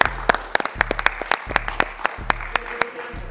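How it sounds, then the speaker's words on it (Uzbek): A studio audience at an Uzbek comedy show bursts into loud applause, dense rapid clapping sustained throughout the short burst. "Legenda Jasur akaga bitta qarsak beringlar, iltimos."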